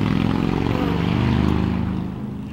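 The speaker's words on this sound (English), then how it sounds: "Hate loud motorcycles." A loud motorcycle engine drones past steadily, then fades slightly toward the end, with no speech.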